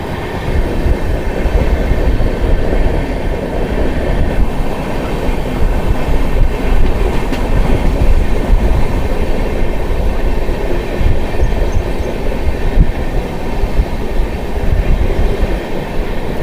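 The Lal Kuan Amritsar Express runs on tracks near Saharanpur, a loud continuous rumble of wheels and carriages heard close up, with a faint rhythmic clatter throughout.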